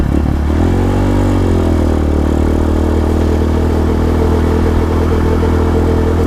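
A modified Rusi KRY-200 motorcycle engine idles steadily at close range, a low continuous rumble with a brief rise in revs near the start.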